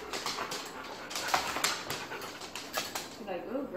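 A dog named Ghost whimpers softly in short bursts over faint background noise, close by, with no clear talk over it.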